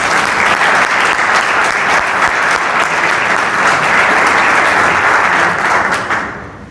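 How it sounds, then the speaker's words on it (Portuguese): Dense, sustained applause from a crowd at a Chega party event in Cartaxo presenting local election candidates, loud and steady throughout, then tapering off at the end. "nosso candidato a falada, Manuel da Câmara, uma salva de palmas."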